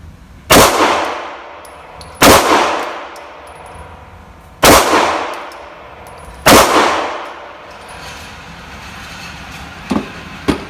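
Glock 26 pistol with stock sights and stock barrel fired on an outdoor firing line: four loud, sharp shots spaced about two seconds apart, each with a ringing decay, followed by faint metallic clinks.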